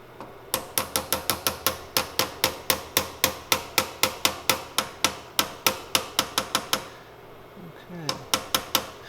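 A muzzleloader rifle sight being tapped into its dovetail with rapid, evenly spaced sharp metallic hammer taps, several dozen in a row. A short pause comes before a few more taps.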